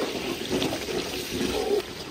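Water poured into a cooking pot of browned potatoes for potato pulao in a village kitchen: a steady, close splashing and trickling that runs unbroken for about two seconds, with no talk over it.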